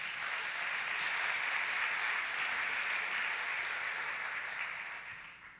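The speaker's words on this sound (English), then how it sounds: "Let's give them a round of applause." Steady audience applause fills a convention hall at a 5LINX business event in New Orleans, a dense even wash of clapping that holds for several seconds before tapering off at the end.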